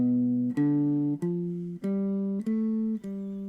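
A bass guitar plays a repeating blues riff of low, sustained notes, each struck with a sharp attack about every half second, steady and close with no voices.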